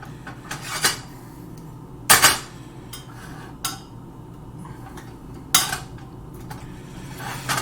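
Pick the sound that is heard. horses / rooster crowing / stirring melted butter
stirring melted butter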